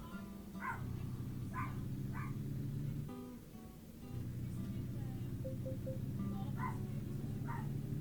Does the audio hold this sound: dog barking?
yes